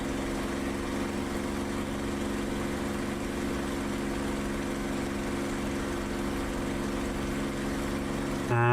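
A P-51 Mustang's piston engine in the DCS World flight simulator drones in a steady, loud, even hum throughout, with a brief rise in pitch right at the end.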